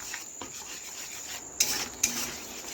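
Paneer mixture being stirred in a pan, with soft scraping and light rubbing, then two sharper metallic clinks of the spoon against the pan near the end. The sounds are close and moderately loud.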